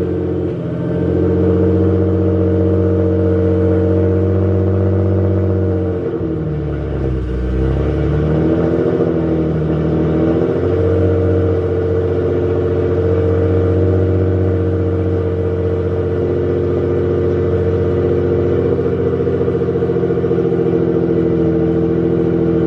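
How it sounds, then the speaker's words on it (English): Infiniti Q50 with a full exhaust running on E85 fires up from cold and settles into a loud, steady idle with a brief dip and surge in revs early on, close to the car with no talking. "let's go ahead and do a little cold start for you guys."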